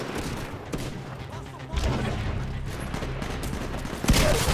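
Shotgun blasts from the Titanfall video game, a couple of booming shots within continuous gunfire and battle noise, with a voice talking faintly underneath.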